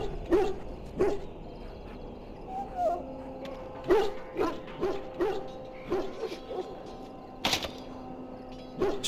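Several hounds in the Dragon Age: Origins video game bark and whine in short, repeated bursts with brief gaps between them, moderately close and clear, with no talk over them.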